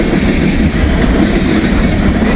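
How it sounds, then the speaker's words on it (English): A long freight train rolls past while slowing, close and loud. A dense, continuous rumble of wheels and cars fills the whole stretch without a break. "This is a long train."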